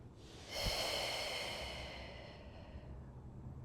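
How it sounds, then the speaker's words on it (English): A deep breath during a slow Pilates flow, heard as one close, airy exhale through the nose and mouth that fades gradually into quiet. "3 breaths. Focus on your breath moving in your body"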